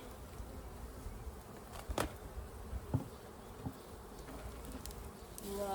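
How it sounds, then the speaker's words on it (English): A soft, constant hum of many bees buzzing close by at an open hive, with a few light taps and knocks breaking through the drone. "Lots of bees up the top, they're very full."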